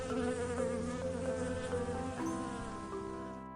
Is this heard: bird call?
no